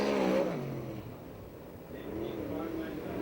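A USAC/CRA sprint car engine roaring around the Perris track on a qualifying lap, a rising and falling whine that fades mid-lap and builds again, with an announcer's voice talking over it.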